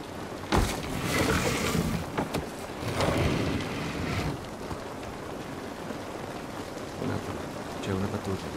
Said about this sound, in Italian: Guarda là come piove, proprio là, dirotto.